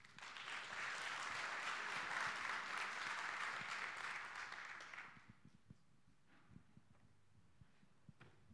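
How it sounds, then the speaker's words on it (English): An audience at a Kyber Network blockchain conference applauds for about five seconds, a dense even clapping that fades out, followed by quiet room sounds with faint scattered thumps. "a round of applause for Tien"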